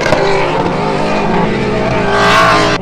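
A 1500 bhp dune buggy engine roaring loudly as it accelerates hard in the desert, a close, continuous high-revving blare that builds toward the end.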